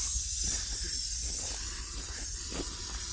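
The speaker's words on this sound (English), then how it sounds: "he's got a hopper loaded up with stucco, and he's just shooting it on as a nice thin layer" Stucco fog coat sprayed from a hopper gun onto a wall, a steady close hiss running the whole time with slight pulsing.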